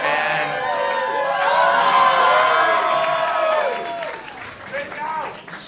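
A crowd cheers and whoops loudly at a dating show, the roar swelling in the middle and then thinning out toward the end.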